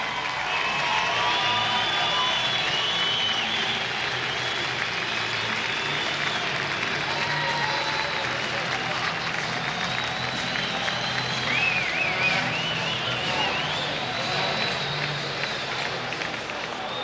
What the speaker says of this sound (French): Un record de la Ligue qui vaut des applaudissements